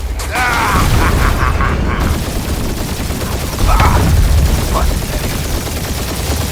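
Gunfire in the Marvel's Guardians of the Galaxy video game, dense rapid bursts of shots and booms over a continuous loud combat din, with a voice calling out briefly.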